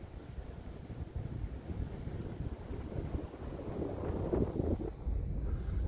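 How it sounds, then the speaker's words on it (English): Steady, rough wind buffeting a microphone, a low rumbling roar throughout with gusts swelling near the end. "If it's too windy out there, I'm sorry."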